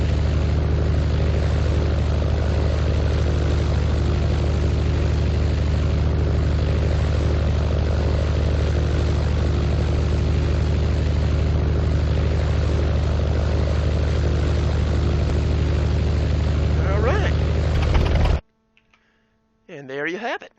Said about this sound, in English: Not a bad flying this thing.